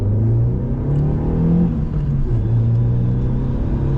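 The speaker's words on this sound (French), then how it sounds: "Là, je vais démarrer un peu avant parce qu'on est 4 dans la voiture." A car carrying four people pulls away from a cone on a braking practice course, its engine rumbling at low, steady revs from inside the cabin, with no talk.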